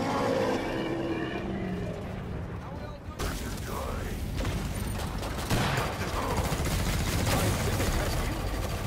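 Dense bursts of rapid gunfire from Killing Floor fill the scene, loud and near, rattling on continuously after a quieter stretch at the start, with excited voices shouting over the shooting.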